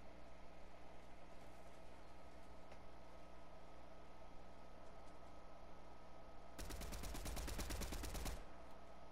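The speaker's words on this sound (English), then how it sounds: "the guy above me is shooting the guy that's down there" A rapid burst of video-game gunfire from Fortnite erupts about two seconds long, loud and dense, after a stretch of quiet low background hum.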